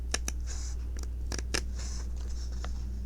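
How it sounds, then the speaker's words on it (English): Scissors snip through cross-stitch fabric in a quiet room, several sharp close cuts spaced irregularly, with a faint steady hum underneath. "I'm going to cut this the rest of the way across"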